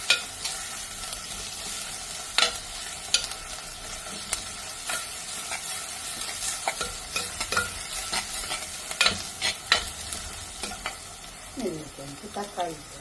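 Shrimp stir-fries in very hot oil, giving a steady crackling sizzle broken by frequent sharp clicks and scrapes of a spoon against the pan. The sound is close and moderately loud, with no one talking.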